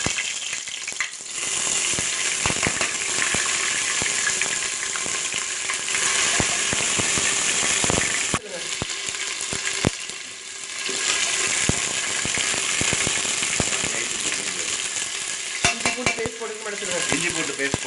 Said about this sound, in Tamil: எண்ணெய் நல்லா சூடான பிறகு இந்த பிரியாணி மசாலா, இந்த ஐட்டம்லாம் போட்டு நல்லா தாளிச்சிருங்க